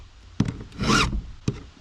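Chain sharpener working on a chainsaw chain, giving a short raspy grinding rub between two sharp clicks, close and fairly quiet.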